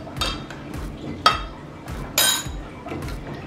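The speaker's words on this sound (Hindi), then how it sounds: "अब हम इसको अच्छे से मिक्स करेंगे।" A spoon stirs ground curry leaves into a green tea drink, with a few bright clinks against the cup or vessel spaced irregularly between softer scraping, close and fairly quiet.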